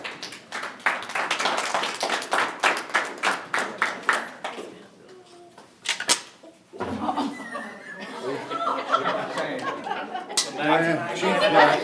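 Audience applause during a high school athletic hall of fame ceremony, with steady clapping and laughter through the first few seconds, then a brief lull before chatter and more applause return.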